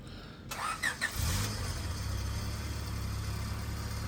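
A B20 VTEC engine fitted with a ported B16 head on a new build cranks briefly, catches and settles into a steady low idle, heard close.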